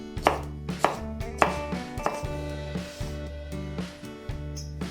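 A knife dicing peppers and onions on a cutting board, about ten close, crisp chops in a loose, steady rhythm, each a sharp knock with a short ringing tail, no talk.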